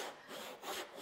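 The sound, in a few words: hand saw cutting wood for a dado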